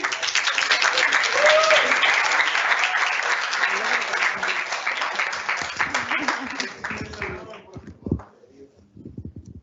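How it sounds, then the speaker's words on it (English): An audience at a young adults' start-up competition award ceremony breaks into loud, sustained applause that gradually thins out toward the end, with some voices and crowd noise mixed in. "you can applause, you can applause"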